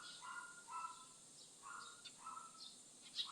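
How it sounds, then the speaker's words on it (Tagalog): Birds sing faintly in the distance, with short repeated chirps and whistled phrases over a quiet background. "Naririnig ko puro huni ng mga ibon."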